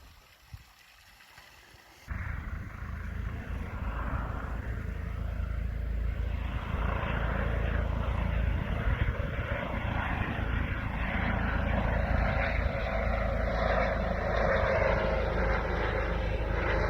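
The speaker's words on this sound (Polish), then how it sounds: "Helikopter to jedyna forma dotarcia tutaj do poszkodowanego." A rescue helicopter flies over a ski field at Lyford, New Zealand, its engine and rotor roar rising abruptly after a brief quiet start and then holding loud, near and steady to the end.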